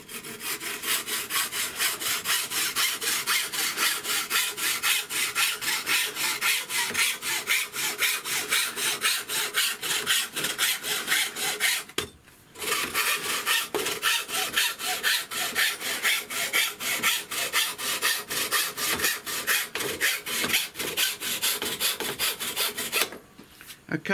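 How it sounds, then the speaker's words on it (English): A standard hacksaw blade cuts through FR4 G10 fibreglass laminate sheet in fast, even back-and-forth rasping strokes, close and loud, with one brief pause midway and another near the end. "And then just using the standard hacksaw blade and see how well we can get on."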